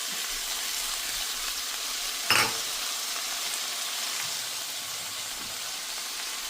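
Chopped spinach leaves and coconut frying in a pan for a spinach and egg omelette, a steady close hiss of sizzling with one sharp clatter of a utensil partway through, no voices.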